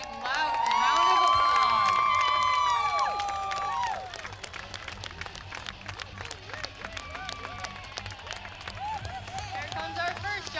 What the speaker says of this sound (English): Let's give the jumpers a big loud round of applause.